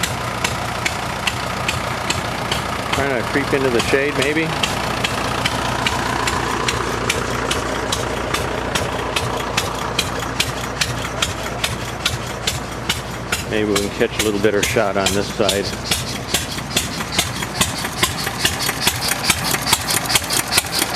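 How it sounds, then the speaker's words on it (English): International 450 diesel tractor idling at an outdoor antique tractor show, a steady mid-pitched chugging with a regular beat, close and loud, while people talk over it. "And we got a 450 diesel over here just idling away."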